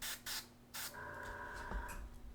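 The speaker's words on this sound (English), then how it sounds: "So what I want to do is I want to spray a little bit of ambient glow around here," An airbrush sprays white paint in short bursts and then a steady hiss, close and fairly quiet, with no talking.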